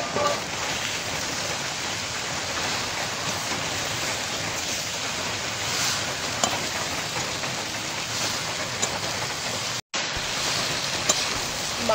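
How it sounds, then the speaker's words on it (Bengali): Cabbage sautés in a pan as a dense, steady sizzle, close and constant, with a few faint scrapes and a brief dropout near the end. "বাঁধাকপিটা ভালো করে কষিয়ে নেব।"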